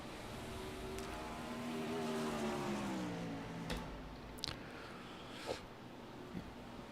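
A 410 wingless sprint car rolls out onto the Eldora Speedway, its engine droning steadily at a distance, rising a little before easing back, with a few faint sharp pops over the hum.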